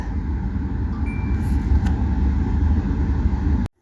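Interior of a car riding along a road in Qatar: a steady low engine and road rumble with constant hum, loud and even, cutting off abruptly at the end.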